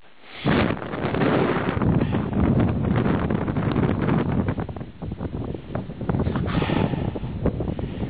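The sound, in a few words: wind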